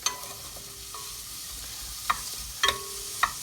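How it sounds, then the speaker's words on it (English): Softening vegetables for tomato soup are pushed around a pan with a wooden spoon over a soft steady sizzle, with a few distinct scraping strokes near the end, close and fairly quiet, no talking. "Keep moving it about with a wooden spoon."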